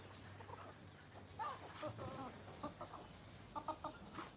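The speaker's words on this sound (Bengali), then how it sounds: "এখানে অ্যাকচুয়ালি দেশি মুরগির বাড়িঘর বললেই চলে" Desi chickens cluck faintly in a village yard, short scattered clucks rising in small clusters over a low steady background hum.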